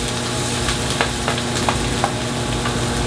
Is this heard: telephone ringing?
no